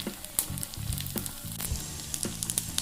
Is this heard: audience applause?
no